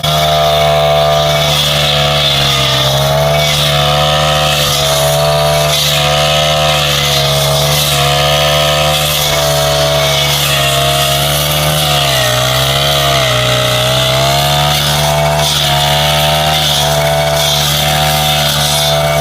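A petrol brush cutter cutting grass on a pond bank, its engine whining loudly and continuously up close, the pitch dipping and rising as the blade meets the grass.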